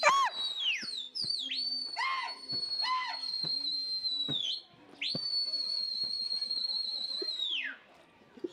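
Sharp, high, sustained whistle blasts, some sliding and warbling, are blown to call back fighting pigeons outdoors, with clicks and brief voices between them.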